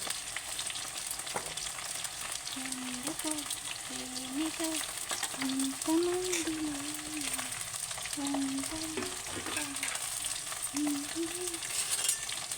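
Okra frying in a pan for a Telangana-style fry, with a continuous soft sizzle. A background voice or tone wavers faintly through most of the stretch.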